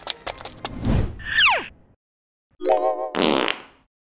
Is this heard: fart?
yes